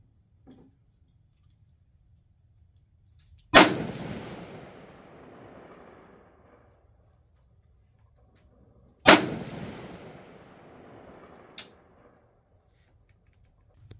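Two loud rifle shots from a Bear Creek Arsenal 16-inch 5.56 upper firing Frontier 55 grain match ammunition, each a sharp crack with a long fading echo, several seconds apart, plus a faint click afterward.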